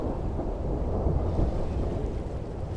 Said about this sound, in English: The storm begins, poor wretch.